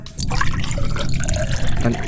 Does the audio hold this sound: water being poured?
yes